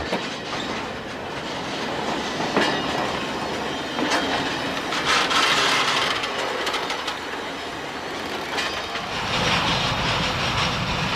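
Freight railway wagons roll through a marshalling yard, with continuous close rumbling, clickety-clack of wheels over rail joints, and intermittent high squeals from braking wheels.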